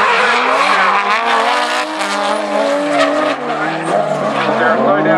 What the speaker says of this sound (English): Couple of top shelf drifters here right now.